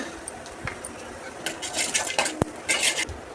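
A spoon scrapes and clinks against a pan as peanuts, chana dal and coriander seeds roast in a little oil, with sharp metallic taps and bursts of stirring over a faint sizzle.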